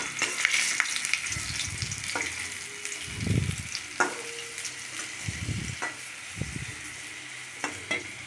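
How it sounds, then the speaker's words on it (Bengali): Stuffed potatoes fry in oil in a wok with a constant bubbling sizzle, broken by several soft thuds and scrapes as pieces are turned, close and moderately loud. "ঘুরিয়ে ঘুরিয়ে চারিদিকে ভেজে নিলাম।"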